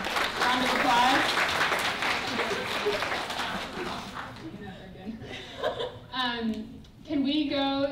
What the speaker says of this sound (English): Can we do a little clap, round of applause?